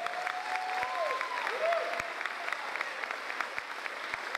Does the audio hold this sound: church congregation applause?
yes